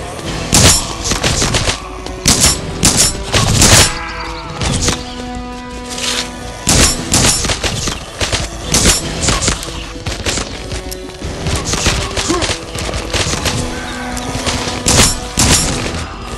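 Video game gunfire in a dense, loud barrage: rapid automatic bursts, single heavy shots and occasional booms and thuds overlapping for the whole stretch, with only brief lulls.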